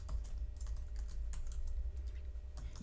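Typing on a computer keyboard while writing code for a portfolio website, steady quick clicking keystrokes close up for about three seconds with no talk.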